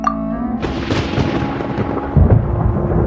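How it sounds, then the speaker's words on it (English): Thunder in Genshin Impact: a sharp crack opens into a loud, sustained rolling rumble that fills the scene, with a deeper heavy boom surging near the end. "Paimon used thunder!"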